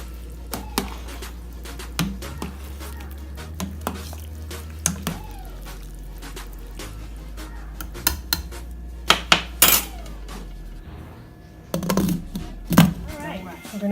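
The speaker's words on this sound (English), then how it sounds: "We're going to give it a quick stir." Chicken escarole soup is stirred in a cooking pot in a home kitchen, with scattered metallic clinks and scrapes of a utensil against the pot over a low steady hum, then a brief denser burst of clatter near the end.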